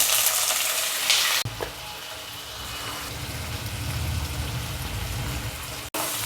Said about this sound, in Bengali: পঁচিশ গ্রাম তেল সর্ষের তেল কড়াইয়ে দিলাম আর একটা তেজপাতা হাফ চা চামচ সাদা জিরে একটা গোটা পেঁয়াজ